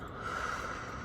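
A single long, smooth exhale released after a held deep breath during a guided breathing exercise, soft and steady, heard alone without talk.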